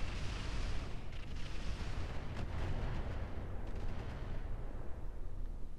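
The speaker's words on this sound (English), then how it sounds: "That's one of the turrets, probably LRM turret. Another turret with LRMs." LRM missile turrets in Roguetech launch volleys, a sustained dense roar of rumbling blasts and crackling bursts that stays loud for several seconds with no talking.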